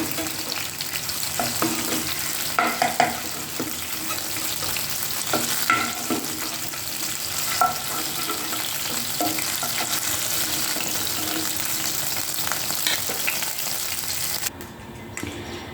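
Boal fish frying in hot oil in a covered pan, a loud steady sizzle with scattered pops and crackles that runs throughout and cuts off just before the end.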